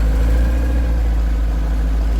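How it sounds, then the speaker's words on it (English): Longtail boat engines taken from old trucks run at a steady, loud, deep drone with a constant low rumble and no voices. "these engines power the longtail"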